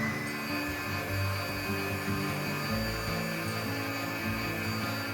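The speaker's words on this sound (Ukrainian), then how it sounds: "Додаю дрібку солі і продовжую збивати вже на більшій швидкості." An electric mixer whips cold egg whites with a pinch of salt at a higher speed, giving a loud, continuous motor whir that stays close and steady with no talking.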